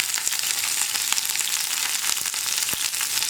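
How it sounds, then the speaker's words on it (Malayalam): Onion and curry leaves sauté in hot oil, a dense, continuous, close frying hiss with occasional crackles and stirring sounds, no one speaking. "ഇനി ഉള്ളി ഒന്ന് നന്നായിട്ട് വഴറ്റിയെടുക്കുക"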